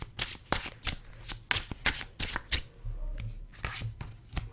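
Tarot cards shuffled in quick, papery bursts of riffling and sliding, close and fairly soft, with irregular pauses between handfuls and a low hum underneath.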